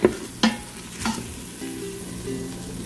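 Ground mint-coriander masala sizzles with onions in a hot pan for soya chunk biryani, a steady close frying hiss broken by a few sharp clicks and scraping stirs near the start, with no voices.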